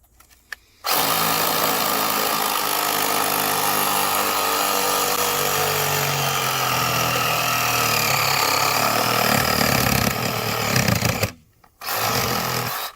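A power saw cuts through Schedule 40 PVC drain pipe, a loud, close, sustained whine and grind that starts abruptly, holds for about ten seconds, stops briefly, then starts again.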